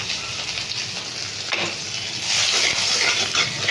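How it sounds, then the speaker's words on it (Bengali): Tomatoes frying with spices in a hot pan give a steady close sizzle that swells louder in the second half, with a faint stir or scrape partway through and no voices. "এগুলো একটু ভাজা ভাজা করে নেবো"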